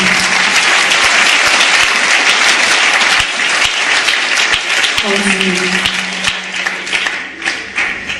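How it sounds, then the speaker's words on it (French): A church congregation breaks into loud, sustained applause and cheering for the Lord Jesus, dense clapping filling the room throughout, with a voice briefly rising over the crowd near the end. "Alors pourquoi ne pas acclamer très fort le Seigneur Jésus?"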